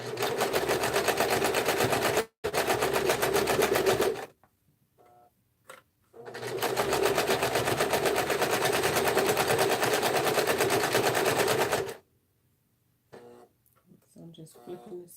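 A sewing machine stitches in two long, fast, rattling bursts, loud and close, split by short pauses with soft handling sounds and a voice between them.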